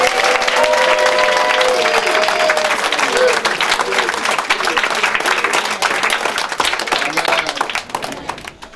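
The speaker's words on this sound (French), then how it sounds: "Est-ce qu'on peut l'acclamer fortement?" A church congregation claps and cheers loudly and steadily for about eight seconds, a dense wash of applause with voices mixed in, tapering off at the very end.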